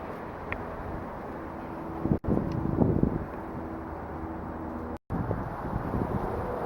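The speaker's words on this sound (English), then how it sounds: "this is going to be a bit windy" Low, rumbling wind buffets a microphone continuously, with gusts swelling and two brief dropouts, no voices present.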